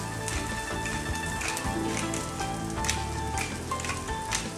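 Vegetables sautéing in a pan for an Ecuadorian frittata, a continuous close crackling sizzle with scattered spattering pops and soft scraping, steady throughout.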